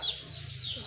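Chickens cluck briefly nearby, a short rural burst of hen calls at moderate volume over faint background noise.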